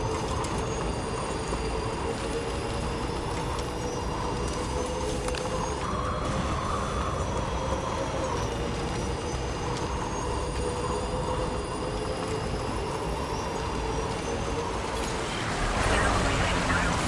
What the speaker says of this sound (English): It's the monorail.